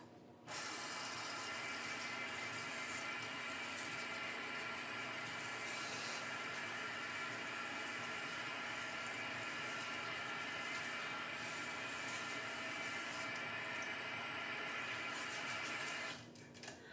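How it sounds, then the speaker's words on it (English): Steady running water from a salon sink sprayer rinsing a hair mask out of hair, a continuous close hiss that starts abruptly and stops just before the end, with no talk. "And we'll go ahead and rinse that out."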